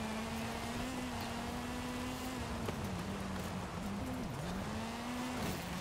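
A Ford Bronco in Forza Horizon 5 slides through a second-gear corner, its engine holding a steady drone that dips and wavers as the tyres scrub, with no talk over it.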